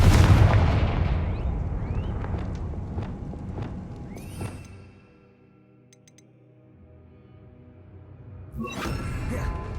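Confringo blast spell cast in the Hogwarts Legacy video game, a loud fiery explosion that booms and slowly decays into quiet, followed by another burst near the end.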